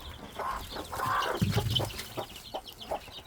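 Chickens in a backyard flock of about eleven cluck in short, close bursts while pecking at apple and fruit peels, with scattered clucks and rustling throughout.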